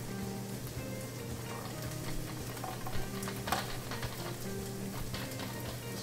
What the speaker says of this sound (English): You can just run the carrot through, and it slices it right in the pan.